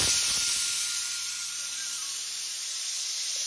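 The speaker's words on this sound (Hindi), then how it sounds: "अब मैं दाल का छौंका लगा देती हूँ" Hot spices are poured into dal to temper it, giving a loud, steady sizzling hiss with a burst of crackle at the start, then a softer, even sizzle.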